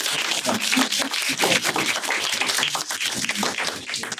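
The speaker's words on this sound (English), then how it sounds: "can we give this man a round of applause?" A classroom group applauds after a teaching exercise, many hands clapping in a dense, steady patter throughout, fairly close and without speech over it.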